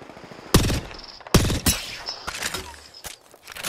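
Gunfire in the game Apex Legends, a few sharp, loud shots and short bursts spread across a few seconds, with quieter clanks and impacts between them.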